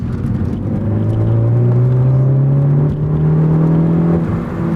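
A 2018 Ford Focus ST's engine pulls hard around a race track, a steady loud whir whose pitch climbs smoothly over several seconds of sustained acceleration, heard close from inside the car with no talk.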